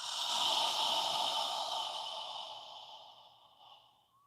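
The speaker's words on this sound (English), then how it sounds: "on the exhale, imagine you're fogging a mirror with your breath" A long, breathy exhale with an open mouth, as if fogging a mirror, steady and fairly loud at first, then slowly fading over several seconds, heard alone.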